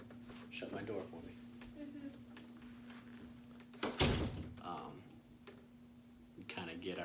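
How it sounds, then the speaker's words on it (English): A bedroom door is shut partway through, giving one sharp thud amid a quiet room, with people talking softly before and after. "Shut my door for me."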